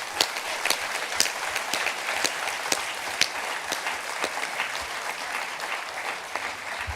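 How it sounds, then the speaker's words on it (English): Sustained applause from a conference audience at an SNP party gathering in Scotland, steady dense clapping with scattered sharper claps throughout, no voices over it. "Give him a round of applause, ladies and gents."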